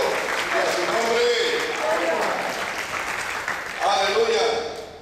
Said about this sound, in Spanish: Denle un aplauso fuerte, hermano.